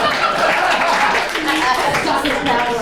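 A comedy club crowd at Broadway Comedy Club in New York applauding a performer: a dense, steady wash of clapping with voices mixed in throughout.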